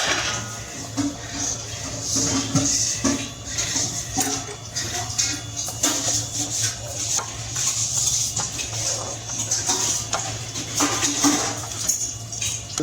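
Kitchen utensils and steel dishes handled in a home kitchen, a continuous clatter of clinks and scrapes at close range over a steady low hum.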